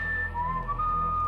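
A whistled Indiana Jones theme, taken as an Easter egg from the video game Serious Sam, plays as a clear, steady melody over a constant low hum for just over a second.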